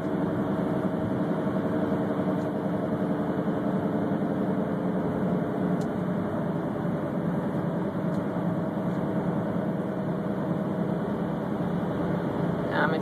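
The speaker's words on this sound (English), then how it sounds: "you can hear that whirring noise, that's what I'm talking about" A 1997 Honda CR-V engine gives a steady, continuous whirring drone with a low mechanical hum underneath, constant and close throughout with no talking.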